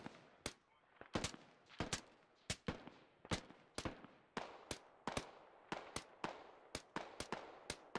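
Gunfire in the military shooter game Squad: a steady run of sharp single shots, roughly two per second, some in quick pairs, sounding fairly distant and alone without talk.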